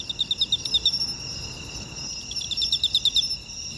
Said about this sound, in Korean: 어쩌면 왕귀뚜라미의 노래가 아닌가 생각해요